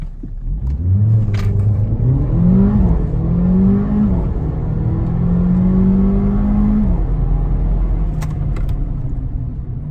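A tuned Mercedes CLA45 AMG, boosted from 360 to 403 hp, runs a 0-100 km/h acceleration test: a loud, close engine climbs through several rising gear pulls with brief dips at the shifts, then settles into a steady high roar.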